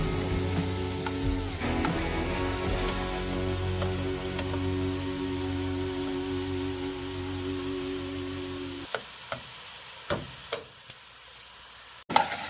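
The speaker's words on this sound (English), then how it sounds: "Get every piece touching the hot pan. Give it the sear" Beef sears in olive oil in a hot pan with a steady close sizzle that drops away partway through, followed by a few sharp utensil clinks and knocks against the pan.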